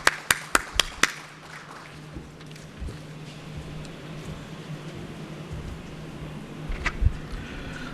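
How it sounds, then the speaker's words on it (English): Hand claps in a conference hall at a tea and coffee expo: a short burst of about five sharp, distinct claps, followed by quiet room hum and a few faint taps. "Please clap, sir."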